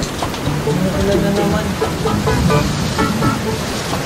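Steady rain falls, a dense even hiss of drops spattering on surfaces with no pause, fairly loud and close throughout.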